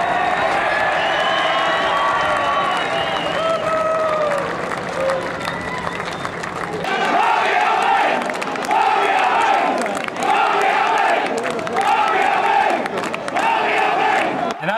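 A football crowd cheers and shouts at a local club's 2010 premiership cup presentation as the player lifts the trophy, a loud, sustained roar with rhythmic bursts of chanting and clapping swelling in the second half.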